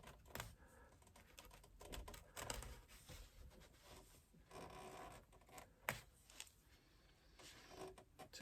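A seam ripper picks out basting stitches along the bottom of a fabric bag, producing faint, close, irregular snips and tugs of thread in quick bursts.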